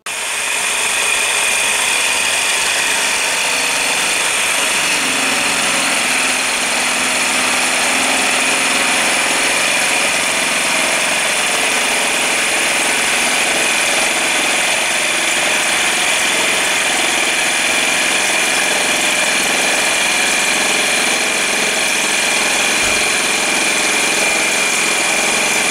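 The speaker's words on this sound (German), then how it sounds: "Und das wird jetzt gesägt" A steady, loud power-saw drone cutting a wooden board runs continuously without pause, a constant high-pitched mechanical whine filling the whole stretch.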